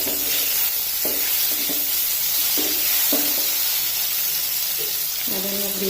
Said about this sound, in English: Add in our tomatoes